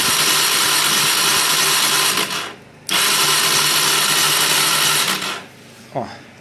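A rebuilt Honda Transalp 600 motorcycle engine runs at idle on its first start after repair, a loud steady close drone that stops twice briefly, ending with a short knock.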